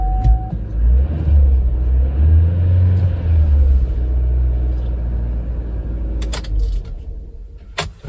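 A 2016 Buick Encore's 1.4-liter turbo engine cranks and catches, then settles into a steady, close, loud idle rumble, free of misfire after a purge valve repair; a few sharp clicks sound near the end.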